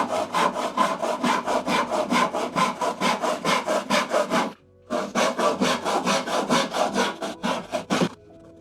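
A hand saw cuts the top off a wooden piece for a ground cabinet with mortise and tenon joinery, in close, loud, rhythmic back-and-forth strokes. A short pause breaks the strokes midway, and sawing then resumes.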